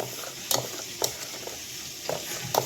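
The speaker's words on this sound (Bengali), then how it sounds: "এটা ভালো করে ঘুটে একটু মশলাটা মিশিয়ে নিতে হবে সব কিছুর সাথে" Spice paste for shrimp curry being stirred in a frying pan, with a low sizzle throughout and several distinct scrapes and taps of the spoon against the pan at irregular intervals, close up and with no talking.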